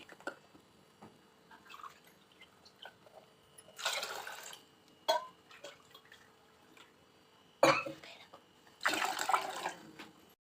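Water is poured into a cooking pot for pongal in two splashing bursts, a few seconds apart, with scattered clinks and drips of kitchen activity between them.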